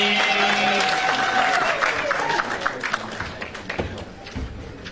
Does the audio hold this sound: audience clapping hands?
yes